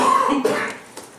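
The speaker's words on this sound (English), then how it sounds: "coughing a little bit" A single short cough or throat clear, close and fairly loud, then quiet.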